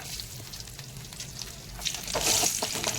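Garlic and coriander powder fry in hot oil with a soft, crackly sizzle and faint stirring, growing busier and louder toward the end.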